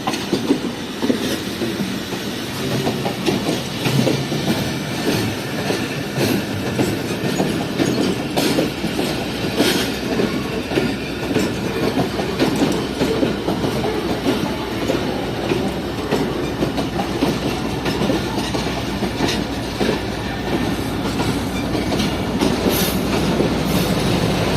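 A Pakistan Railways Jand Passenger train passes close by, hauled by Khundian shed locomotive GMCU 4903 and carrying a new Sir Syed Express coach. Loud, rhythmic wheel clatter and rumble run throughout, with no voices.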